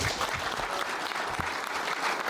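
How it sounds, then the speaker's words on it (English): Steady applause from a crowd greeting a speaker at a motivational talk, dense and continuous hand-clapping filling the whole moment without pause. "Let's clap it up for him."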